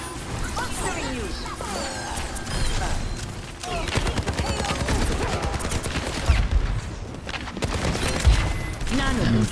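Dense, continuous gunfire from a competitive Overwatch 2 match on the Junkertown map, with bursts, impacts and crashing effects layered over game noise and voices talking throughout.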